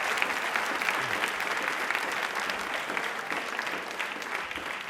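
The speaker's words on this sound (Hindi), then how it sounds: "तालियां प्लीज एक बार जोरों से शोरों से बजा दीजिए।" Steady, dense clapping from a studio audience at a televised Rajasthani quiz show, loud and sustained for the whole stretch with no voices on top.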